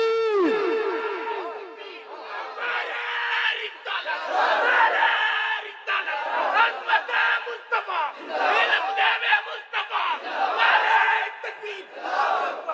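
A large crowd at a religious gathering roars a chant in unison in response to a takbir call, with loud rising and falling waves of massed voices that continue for several seconds.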